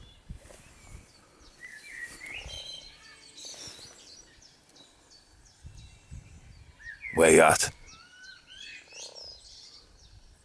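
Frog croaking near a garden pond at a vineyard in Northumberland, repeated calls, with one loud burst near the middle; birds chirp faintly and a person speaks briefly.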